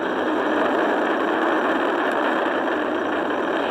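The NASA SLS Artemis 1 rocket lifts off, its four RS-25 core-stage engines and two solid rocket boosters producing a loud, steady, unbroken roar that fills the whole clip without letting up.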